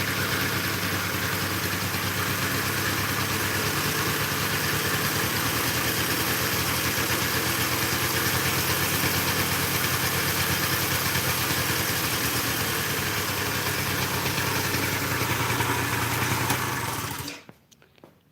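A Yamaha Razz moped engine idles steadily and loudly up close, a buzzy small two-stroke hum burning off excess oil, running without break for about seventeen seconds before cutting off abruptly.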